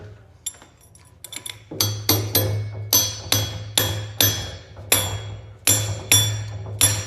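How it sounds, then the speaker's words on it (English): Repeated sharp metallic hammer taps, about a dozen in a steady rhythm, close and fairly loud over a low steady hum, with a few lighter clinks first. "I like to use a little bit of a hammer to kind of get them started"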